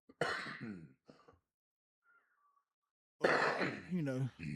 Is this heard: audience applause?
no